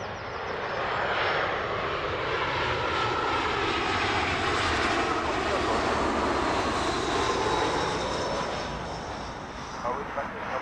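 An Emirates airliner arriving at Heathrow roars steadily overhead, a broad jet engine rumble that swells and slowly fades over about ten seconds, with faint voices underneath.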